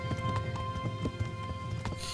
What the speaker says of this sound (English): We can do riding horses and stuff.